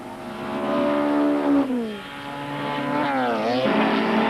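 A loud Rover 3.6 litre V8 saloon racing car roars past with strong harmonic tones, pitch falling as it passes, then revving up and dropping again near the end.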